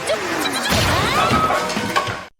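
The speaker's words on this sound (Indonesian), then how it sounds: "atap guanya retak hebat dan pasir mulai berjatuhan deras menimpa kepalanya" A cave roof cracks and collapses with sand pouring down in an animated scene: a loud, sustained crashing rumble with grinding debris that cuts off abruptly at the end.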